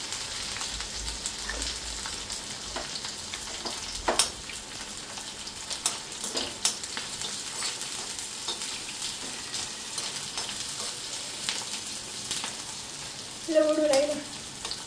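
Manchurian frying and sizzling in a pan, a steady crackling hiss that runs throughout, with light stirring knocks and a brief louder burst near the end.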